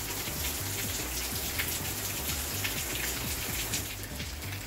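Steady rain falls outdoors, a constant hiss with scattered drops pattering on surfaces throughout, fairly quiet and even with no voices.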